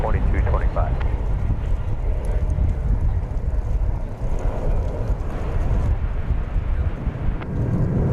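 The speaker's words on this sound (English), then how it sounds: "Oh, sorry, Airbus A319." An Airbus A319 airliner takes off at DFW Airport, a steady, loud low rumble of jet engines with wind-like broadband roar throughout, continuous and fairly close.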